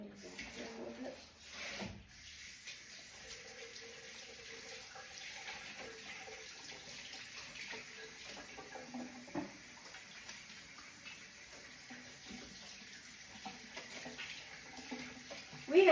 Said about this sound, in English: Wash my hands off there a little bit.